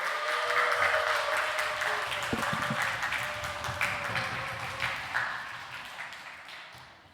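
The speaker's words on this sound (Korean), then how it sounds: "한번 박수 부탁드립니다" Church congregation applauding during a Sunday service as a missionary comes forward, a broad wash of clapping with scattered sharper claps, loud at first and slowly tapering off over several seconds.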